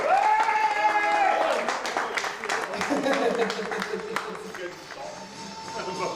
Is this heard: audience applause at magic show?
yes